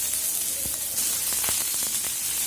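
Chopped onion fries in hot oil over garlic and five-spice tempering for a masoor dal tarka, giving a constant close hiss broken by small pops and crackles, with no talking.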